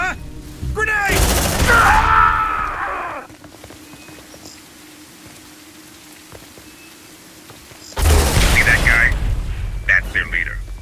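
Heavy gunfire and explosions in the sci-fi combat game Aliens: Dark Descent come in two loud bursts of rapid shots with a quieter lull between, while voices shout over the action.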